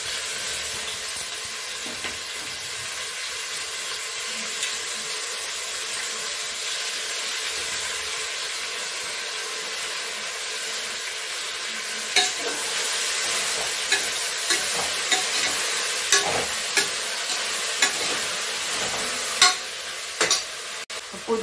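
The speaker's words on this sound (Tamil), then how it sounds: "புதினா போட்டு இதை கொஞ்சம் நல்லா வதங்கிட்டேன்" Mint leaves sauté in a hot pan for mint rice with a soft, continuous sizzle, broken later by light scraping and stirring clicks from a spoon; fairly quiet and close, with no talking.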